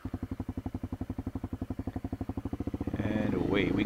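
Motorcycle on gravel: a steady, rhythmic engine thump that swells louder near the end as it pulls away, with crunching texture, close by.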